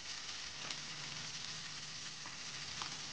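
Instant spice paste for a chicken liver and gizzard dish sizzles in a pan with a constant, hissing fry, faint and close, and a few soft stirring ticks.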